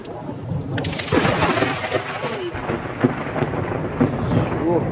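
Steady heavy rain with a deep rumble of thunder from a nearby lightning strike, rolling close, loud and continuous, with no voices.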